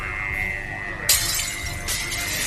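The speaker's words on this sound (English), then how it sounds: "It's starting to break the glass of my window." Window glass shattering under attack: a sudden bright crash around the midpoint, then a second burst of breaking, over a steady loud background hum.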